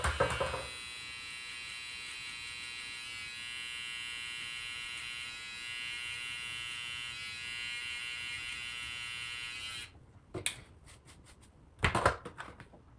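Electric shaver trimming a beard, a close, steady buzzing drone running for about ten seconds, then stopping and giving way to a few sharp clicks and handling knocks near the end.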